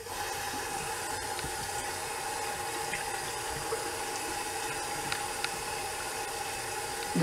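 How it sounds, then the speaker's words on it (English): Cold water runs steadily from a tap to rinse a Merkur 37C safety razor and shaving gear, a continuous even hiss held at one level throughout with no talking. "I'm going to get some cold water and rinse everything off."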